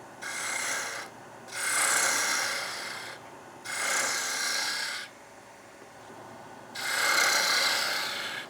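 A woodturning tool is guided into end grain on a lathe spinning near 2,300 RPM, giving four separate bursts of hissing, rasping cuts with quiet gaps between them, moderately close.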